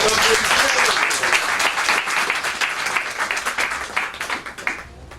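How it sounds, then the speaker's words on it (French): Audience applause at a political candidacy declaration, a loud sustained roar of many clapping hands that thins into individual claps and fades out near the end. "C'est quand même applaudi."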